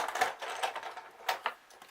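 A cutting die and card run through a manual die-cutting machine, giving faint crunching clicks and creaks in an uneven rhythm, close and quiet with no talking.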